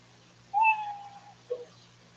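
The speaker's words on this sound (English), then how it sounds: "They know their 60 seconds is up when they hear the sound of a kitty." A short cat meow sound effect plays as a stage cue at a comedy open mic, one drawn-out mew followed by a brief second chirp, clear and alone over a faint steady hum.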